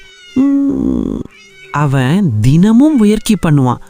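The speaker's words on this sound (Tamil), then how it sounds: "ஆனா வெளியே வரும் சத்தம் மியாவ்" A cartoon lion cub gives a short, cat-like meow in a high voice, then a narrator keeps talking close by; the mewing is brief and clear before the speech.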